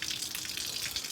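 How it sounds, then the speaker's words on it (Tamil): Water drains out of a water tank in a brief, steady rushing gush that is moderately loud and heard alone. "தண்ணியை தாழ்ந்து விடுறேன் பாருங்க"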